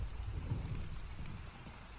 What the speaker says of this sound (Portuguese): Mais um dia, tá chovendo ainda.